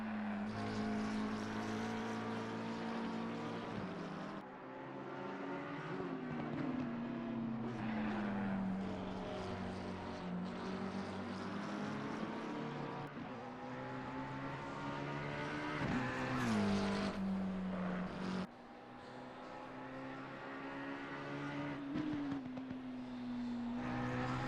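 Race cars in a sim racing game lap Watkins Glen during an endurance race, their engines droning loud and steady, climbing and falling in pitch through gear shifts and corners.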